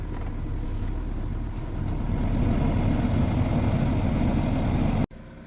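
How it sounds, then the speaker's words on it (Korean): Chevrolet Spark M300 engine held at raised revs to bring the coolant up to temperature after a thermostat and upper hose replacement, a steady close droning hum that runs unbroken, then cuts off abruptly near the end. "악셀을 밟아서 엔진 온도를 올려줍니다"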